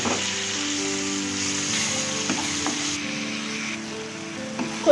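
Chopped onions, green chillies and curry leaves sizzle in hot oil with dry prawns for a cucumber curry, a loud continuous frying hiss with occasional stirring clinks and spatula scrapes.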